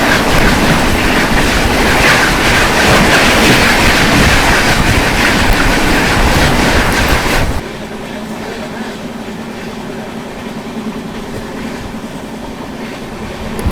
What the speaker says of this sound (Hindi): सामने से आती हुई भागलपुर आनंद विहार विक्रमशिला एक्सप्रेस।